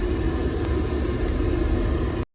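A manual-swapped Mercedes W124 warms up, a steady low engine rumble that runs unbroken at close range and then cuts off abruptly.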